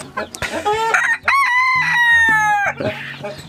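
A rooster crows loudly and close at a poultry market, one long strained call rising and then falling away, with some clucking around it.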